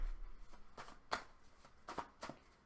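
Tarot cards shuffled and drawn by hand, a few quick crisp riffles and slaps spaced across the moment, close and fairly quiet, with no talking.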